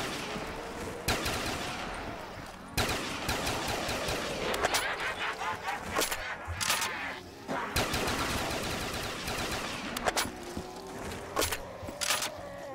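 Automatic gunfire in Black Ops Zombies on the Yukiko's Castle map, repeated loud bursts and rapid volleys across the whole stretch, with short pauses between firing.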